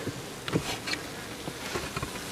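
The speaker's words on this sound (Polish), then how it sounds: "no jest tych pszczół w całym wjeździe" Honeybees at the hive entrance buzz steadily in a dense, continuous hum, with a few individual insects droning past close by.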